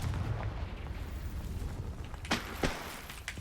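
Confringo blasting spell cast in Hogwarts Legacy: a couple of sharp, close bursting pops over a low rumbling game background, with no talking during the blasts.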